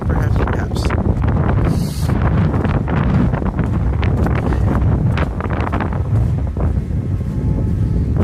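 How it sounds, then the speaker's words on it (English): Strong wind buffets the microphone on a Toronto street walk, producing loud, continuous roaring gusts that surge and fade unevenly and leave the background muffled throughout. "It's the wind that blows through you."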